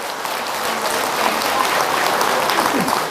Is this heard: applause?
yes